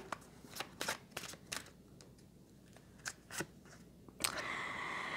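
Tarot cards being shuffled before drawing a final card, with a series of sharp riffling bursts at irregular intervals, close and fairly loud, ending in a longer rustle.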